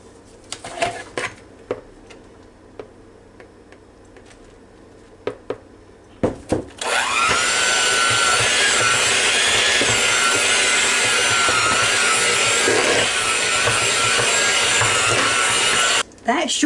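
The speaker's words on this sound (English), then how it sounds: "we need to mix this until it turns out to be smooth" An electric mixer beats cream cheese for a banana split pie, starting after a few clanks and then whirring steadily and loudly for about nine seconds before stopping abruptly.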